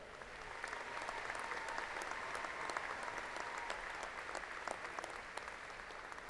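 Audience applause for graduates at the Angelo State University 2015 fall commencement, a sustained wash of clapping from a large hall, even and moderately distant.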